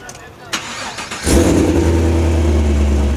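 A 2006 Pontiac GTO engine cranks and catches at a car show, then settles into a loud, steady rumbling idle close by after a couple of faint clicks.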